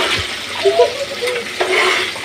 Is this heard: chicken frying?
yes